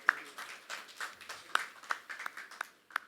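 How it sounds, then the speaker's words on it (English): Sparse, scattered claps from an audience at an interfaith forum in Pune, a thin patter of individual hand claps rather than a full ovation, fairly faint and spaced out over the moment. "Please join me in giving him a big round of applause, audience."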